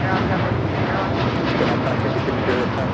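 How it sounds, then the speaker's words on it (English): Boeing 787-9 Dreamliner jet taking off at Los Angeles airport, a steady broadband roar of engine and rushing air held loud and constant throughout, with faint speech underneath. "United Airlines 2602 taking off to Newark on the 787-9 Dreamliner"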